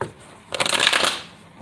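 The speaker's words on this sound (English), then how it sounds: "Do one more shuffle." A deck of tarot cards being shuffled close up, one quick riffling burst of flicking card edges lasting about half a second, quiet and alone.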